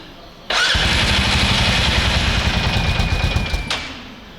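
A Terracross ATV engine cranks for about three seconds in a rapid, loud, chattering burst that never catches, then stops abruptly.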